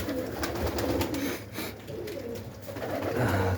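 Several pigeons cooing nearby, soft overlapping throaty coos and rustling, steady and close with no speech.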